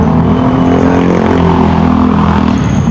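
Cars and other vehicles pass close by along a busy road in Sampaloc, San Pablo City, a loud continuous engine and tyre rumble with no pause.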